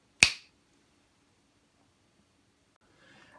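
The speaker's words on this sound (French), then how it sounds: "un petit claquement de doigts" A single sharp finger snap rings out close and crisp at the start, then near-silence follows before a faint rustle near the end.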